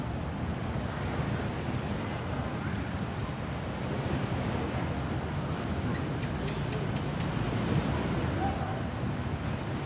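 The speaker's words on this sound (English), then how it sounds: "The sound of the waves" Ocean waves at Pattaya wash in a steady, fairly loud broadband rush with some wind noise over the microphone, continuous throughout and without speech.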